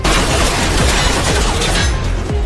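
Loud, rapid gunfire rips through an action film scene about a virus outbreak, dense overlapping shots and bursts continuing almost without pause.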